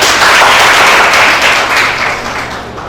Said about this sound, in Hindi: और ताली मारो इसको